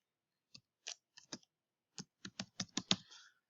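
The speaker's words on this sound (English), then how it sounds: "if you type in Tinkercad like this" Brief bursts of computer keyboard typing, a few isolated keystrokes then a quick run of clicks, close and clear in an otherwise quiet room.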